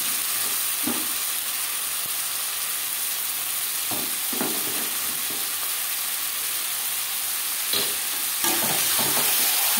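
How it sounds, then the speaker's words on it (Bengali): Marinated mutton sizzles with fried onions in a pan for a mutton and potato curry, a steady loud hiss punctuated by scattered scraping stirs and clinks, no voices. "এই পর্যায়ে দিয়ে দেবো ম্যারিনেট করে রাখা মাটন।"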